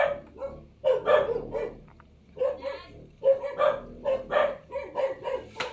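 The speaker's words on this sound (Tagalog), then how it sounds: "Kaya tinatahol po ng aso." A dog barks repeatedly at a passerby outside a house in quick, sharp bursts, moderately close, with short pauses between volleys.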